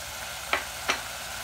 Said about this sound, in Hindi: अब हम इसमें आलू ऐड कर देंगे